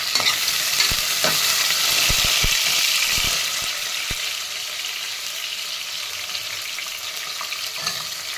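Four finely chopped onions with green chilies fry in oil toward golden brown, a bright continuous sizzle close by, with a cluster of scraping stirs in the first few seconds before settling into an even hiss.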